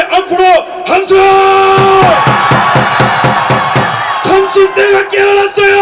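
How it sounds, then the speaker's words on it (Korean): A big outdoor rally crowd in Daegu lets out a loud collective shout and cheer with steady rhythmic clapping, framed by an amplified speaker's voice before and after. "20대 앞으로 함성!"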